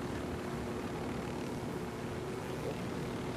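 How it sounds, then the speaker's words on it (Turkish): An airplane flies overhead in Ghost Recon Wildlands, its engine a steady, loud, broadband drone holding evenly for a few seconds with no talk over it. "O uçak bize saldırmak mı?"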